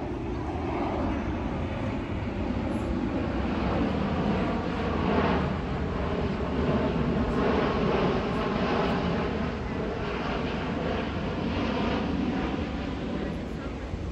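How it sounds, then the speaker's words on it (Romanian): A low-flying fixed-wing airplane descending to land passes over an outdoor area near an art venue, producing a steady, continuous broadband engine roar that stays loud throughout with slight swells, with no other sounds standing out. "Mai trece cât un avion și sunt și la înălțime joasă, că se pregătesc să aterizeze."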